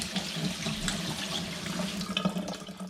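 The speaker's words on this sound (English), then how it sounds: "I'm going to put the tap on, put it in shower mode, and give them a little rinse." Kitchen tap running in shower-spray mode over soaked beans in a sieve, a steady close hiss of water with faint splashy fluctuations throughout.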